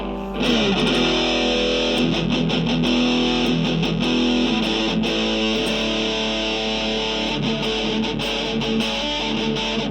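A heavily distorted electric guitar played through a 1996 Boss Metal Zone MT-2 distortion pedal plays sustained, thick chords at a loud, constant level with no talking.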